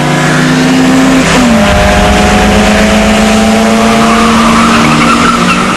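Peugeot 205 race cars launching from the start of a race, engines droning loud and close with a steady high whine, a brief tire squeal and an engine pitch that drops and climbs as a gear changes.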